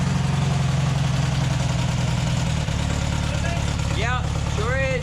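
VW Baja build's engine running at a rough, steady idle, a loud low rumble filling the whole stretch, with a brief whistle-like squeal near the end.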